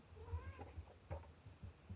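A cat gives a short, faint meow with rising and falling pitch, followed by soft low thumps and rustling in a quiet indoor space.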